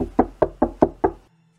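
Five quick, sharp knocks on a door in an even rhythm, close and loud, followed by silence.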